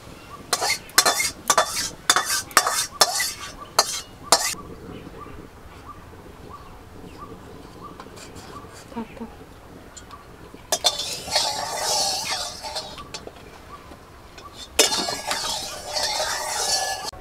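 Fried onions being lifted from a pan and tipped into a container, with a run of sharp metallic clinks and scrapes of a utensil against cookware, then quieter spells and bursts of sizzling oil.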